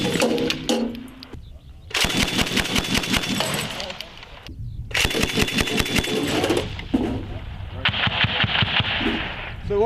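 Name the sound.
machine gun firing bursts in live-fire exercise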